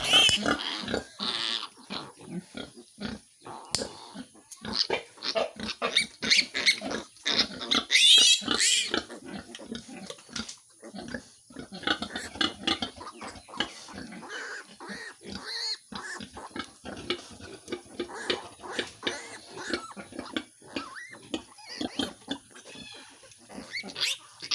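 Piglets squeal and grunt loudly and repeatedly during tooth cutting. The cries come in rapid bursts with short pauses over about twenty-five seconds, close up, with no talking.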